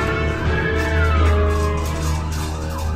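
A passing ambulance siren sweeps and wails through the street, its pitch sliding downward as it goes by over a low traffic rumble.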